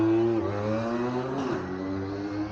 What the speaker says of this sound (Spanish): Muy bien, un ciclomotor, la antigua usanza.